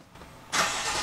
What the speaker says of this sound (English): And now let's crank it up,